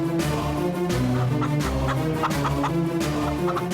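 A rooster and other fowl call loudly and close at hand, with repeated clucking and squawking bursts over a dense, continuous bird din. No one speaks.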